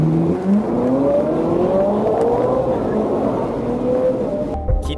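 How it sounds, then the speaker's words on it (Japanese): A Ferrari accelerates hard at full throttle after a police traffic stop, its engine note climbing steadily in pitch over several seconds, loud and continuous before cutting off abruptly near the end. "切符を切られた後、アクセル全開、猛スピードで再び暴走した"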